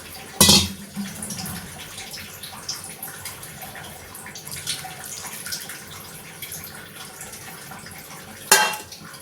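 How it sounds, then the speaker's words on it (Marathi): A masala mixture thinned with water is poured into a kadhai for a stuffed brinjal curry, giving soft watery splashing with a sharp metallic clink at the start and again near the end. "हे ताटातलं आपलं जे मिश्रण आहे याच्यात थोडंसं पाणी टाकून आपण ते या माळ कढईमध्ये ॲड करूयात"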